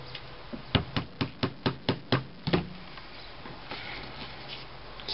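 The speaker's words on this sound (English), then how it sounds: "Let's get something to hammer it in." About eight sharp hammer taps driving a pin into a paper balisong knife in a quick, even rhythm, followed by a couple of heavier knocks, then quiet handling sounds.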